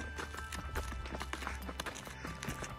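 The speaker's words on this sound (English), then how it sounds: "It looks like they have some stables there for some of the horses and burros." Horse and burro hooves clip-clop along a desert trail near stables at Big Bend's Boquillas Crossing, a steady near rhythm of hoofbeats over constant outdoor noise.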